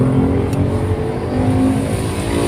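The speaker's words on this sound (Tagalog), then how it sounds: "Grabe ka traffic mga ka-remix." Heavy city road traffic on the way toward Tuguegarao and Baguio, cars passing close by with a loud continuous engine drone and tire roar, no speech.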